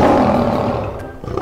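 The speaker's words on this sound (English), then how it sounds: "The lion roars." A lion roars loudly and close, a deep rumbling roar that starts strong and trails off, followed by a short rough burst at the end.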